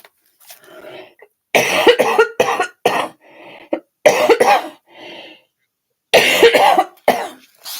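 Repeated harsh coughing in several bursts with short pauses between, close and loud, plus some throat clearing; no speech.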